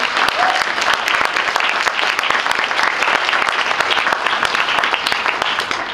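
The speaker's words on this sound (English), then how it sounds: "So if we could give them a round of applause to thank them" A poetry slam audience gives sponsors a loud, dense round of applause that holds strong and even for several seconds without fading.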